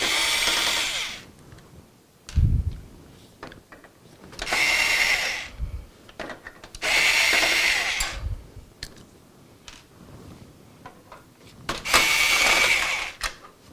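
A power screwdriver backs screws out of a gaming PC motherboard in four bursts of high whining spin, each about two seconds long, separated by quiet clicks and handling knocks, close and loud.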